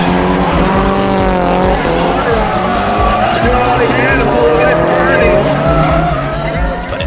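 A McKinney Motorsports Nissan S13 drifts with its engine roaring and tires squealing in long loud slides, close and continuous, under a narrator's voice.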